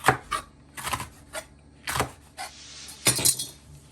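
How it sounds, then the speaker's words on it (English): Sweet pepper and green chili chopped into small pieces on a board, a series of irregular knife taps and knocks, close and fairly crisp, separated by short quiet gaps. "So for my sweet pepper and my green chili, you just want to chop these into small pieces."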